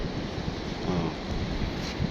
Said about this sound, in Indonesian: Saya ada di tepi pantai. Saat ini disebut Ujung Pancu.